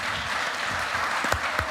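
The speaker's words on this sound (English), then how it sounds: "I want to have everybody to give a strong hand clap to this esteemed panel." An audience claps for a panel at a live event, dense steady applause filling the room throughout with scattered louder individual claps near the end.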